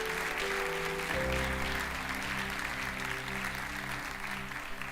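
A church congregation applauds, with sustained clapping from many people over held organ or keyboard chords that shift partway through.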